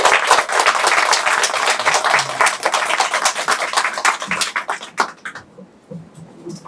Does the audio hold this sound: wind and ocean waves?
no